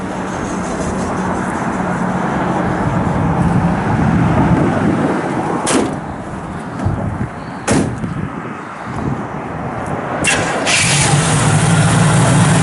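A 1968 Chevrolet Camaro with a 327 V8 cranks and fires up, settling into a loud, rumbling idle close by, with a few sharp bangs along the way.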